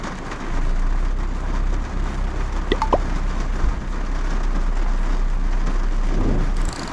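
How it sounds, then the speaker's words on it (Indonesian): Heavy rain pounds on a car's roof and windows, heard from inside the cabin with the air conditioning on its lowest setting: a dense, loud, unbroken drumming hiss with a low steady hum beneath. "Kebetulan lagi cukup hujan deras deras ya."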